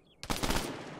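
A rifle volley fired at a memorial parade in the video game Arma 3: one sudden, loud, close crack of simultaneous shots, followed by a sustained rumbling tail that lingers to the end.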